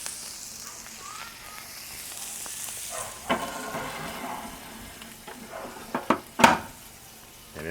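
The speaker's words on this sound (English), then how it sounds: "listen to that sizzle" A soft, steady sizzle of ribeye steak searing in an Ooni Koda 16 pizza oven, with a few sharp metallic clanks and knocks near the end.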